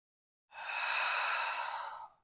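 A single long, steady breath during a hatha yoga practice, smooth and airy like a slow sigh, heard close and alone for about a second and a half before fading out.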